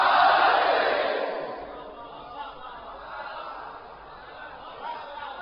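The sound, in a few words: audience shouting religious slogan at a majlis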